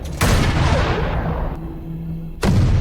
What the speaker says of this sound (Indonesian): pasukan meminta tembakan mortir pada titik tertentu